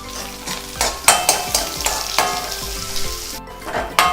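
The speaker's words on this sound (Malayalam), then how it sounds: "ഇതിലേക്ക് നമുക്ക് കറിവേപ്പില ചേർത്ത് കൊടുക്കാം." Onions and curry leaves fry in a pan with a steady, close sizzle, broken by occasional louder spatters and stirring scrapes.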